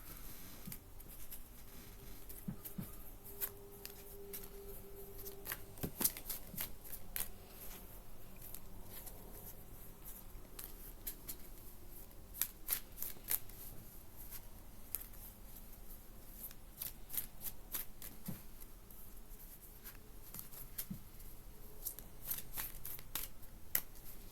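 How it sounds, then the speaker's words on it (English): Tarot cards being shuffled and pulled from a deck, soft riffling and light papery snaps scattered across a long, quiet stretch with no talking. "I want to pull some more cards here."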